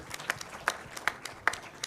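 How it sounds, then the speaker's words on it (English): A conference audience claps briefly for Laikipia County at a talk on Africa's low-carbon cities, a sparse, faint scatter of hand claps sounding somewhat distant. "Could I hear you clap again for Laikipia County?"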